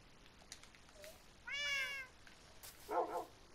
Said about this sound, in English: You okay, kitty?